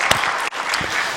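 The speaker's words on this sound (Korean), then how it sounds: "다시 한번 박수하실까요?" A church congregation applauds during a Sunday worship service, a brief burst of many hands clapping that dips for an instant midway and then resumes just as loud.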